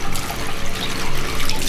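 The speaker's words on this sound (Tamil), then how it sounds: "நான் இப்போ வாஷ் பண்ண போகிறேன்." Water running from a bathroom tap during face washing, a loud, close splashing gush that lasts the whole short moment.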